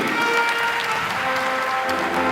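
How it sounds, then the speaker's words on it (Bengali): Audience applauding for a sponsor at a Bengali New Year celebration, a steady dense clapping that stays loud and even throughout with no voices over it. "সবাইকে জোরে হাততালি দেবেন আমাদের যারা স্পন্সর আছে তাদের জন্য"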